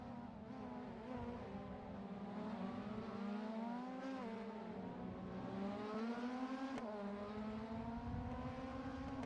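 In a racing video game, the engine of a 2007 Alfa Romeo 156 GTA drones steadily alongside other race cars, its pitch rising and falling with shifts and acceleration, loud and close with no talk.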